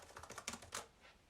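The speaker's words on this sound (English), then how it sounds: "The keyboard, I love the keyboard." Rapid keystrokes on a tactile, clicky laptop keyboard, a quick run of close, crisp clicks with a few louder taps, heard alone with no talking.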